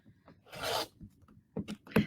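Rotary cutter blade pushed hard through quilting fabric while piecing a Christmas star block, its dull blade giving a broad rasping scrape near the start, then a few shorter scratchy strokes and light handling noises, close and fairly quiet.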